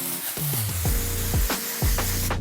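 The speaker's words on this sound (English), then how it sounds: "For the next technique on how to remove shine on a lighter wig, we're gonna be using dry shampoo." Dove dry shampoo sprayed from an aerosol can onto a lighter synthetic wig gives several short hissing bursts in an uneven rhythm, close and loud, with no talking.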